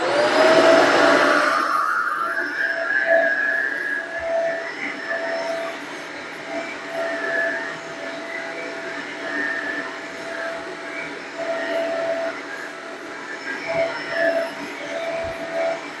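Shark Apex AZ1002 vacuum cleaner running over freshly shampooed carpet, a steady droning whine with a tonal hum, loud at start then settling into a continuous close drone with slight variations as it moves.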